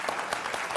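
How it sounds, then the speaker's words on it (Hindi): A single person claps quickly and steadily, four or five sharp claps in under a second, close by and fairly loud, with no talk over them. "चलिए मैं आपके लिए ताली बजाता हूँ।"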